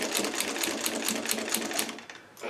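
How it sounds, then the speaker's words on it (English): A sewing machine stitches a pillowcase seam with a half-inch allowance and backstitch, running as a fast, steady rapid-fire whir near and alone, briefly pausing near the end before resuming. "Now I'm going to go with a 1/2 inch seam allowance, and I'm going to backstitch."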